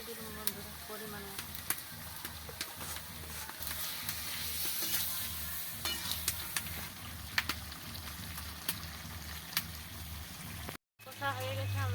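Meat sizzles and fries in a pan with salt while being stirred for village-style kosha, a steady hiss with scraping strokes under a person talking, briefly cutting out near the end.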